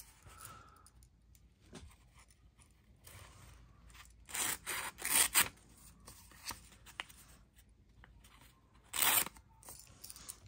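A Gerber Armbar Slimcut knife blade slicing through paper, giving faint scraping and rustling, then a burst of several sharp crisp cuts in the middle and one more near the end, close and otherwise quiet.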